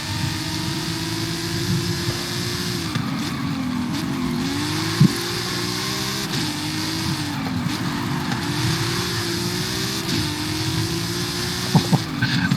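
A race car lapping in Gran Turismo, its engine note rising and falling in steady repeated cycles through gear changes and corners, continuous and close, with brief sharp clicks, no talk.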